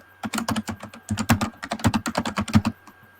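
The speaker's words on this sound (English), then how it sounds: "I have difficulty typing today." Rapid clattering keystrokes on a computer keyboard, close and fairly loud, coming in quick uneven bursts with a brief pause near the start and trailing off at the end, no voices.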